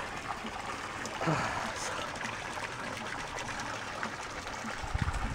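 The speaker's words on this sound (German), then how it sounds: "So, da ist die Dusche, da plätschert's." Water splashing and trickling from an outdoor shower in a home garden, a steady close wash of spray heard under a brief spoken word.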